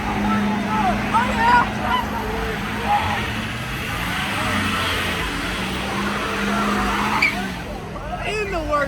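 A car doing burnouts at a car meet, tires skidding and squealing over a loud revving engine, with a crowd shouting and cheering throughout.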